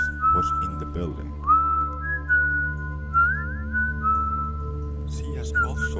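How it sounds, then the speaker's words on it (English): A man whistles a wavering, eerie tune in a gents' toilet, the thin sustained notes sliding up and down over a steady low hum, with a few brief knocks and bursts of noise along the way. "she has heard a man whistling in the gents' toilets after closing"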